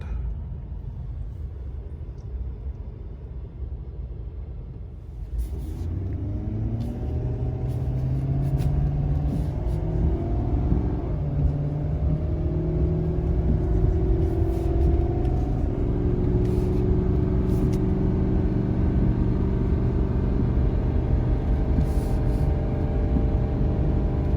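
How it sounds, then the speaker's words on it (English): A 2019 Ford F-450 Limited pickup engine rumbles steadily, then revs up and pulls away uphill towing about 34,000 lbs, its pitch climbing and holding under a sustained load. "you'll see how the truck takes off from the line and goes up that hill"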